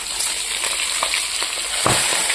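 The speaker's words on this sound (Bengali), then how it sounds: "এবার আমি এখানে ভেজে রাখা আন্ডাগুলো দিয়ে দেবো।" Previously fried eggs go into a bubbling curry, setting off a loud, close, hissing sizzle that runs steadily, with a few faint knocks and a slight surge near the end.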